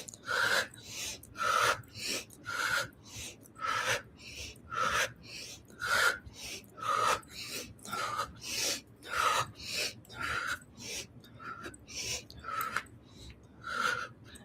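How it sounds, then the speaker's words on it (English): Breathing exercise done as a rhythmic series of forceful, audible breaths, about a dozen evenly spaced sharp inhales and exhales repeating steadily, fairly close and fairly quiet, with no talking. "Another round of breathing"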